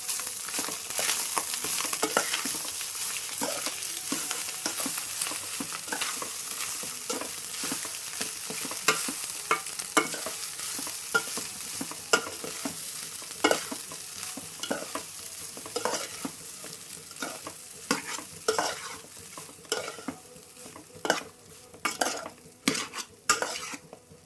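Egg rice seasoned with chilli powder is stirred in a sizzling pan. A soft frying hiss runs underneath while a spoon scrapes and clinks against the metal in irregular strokes that grow sharper and more spaced toward the end.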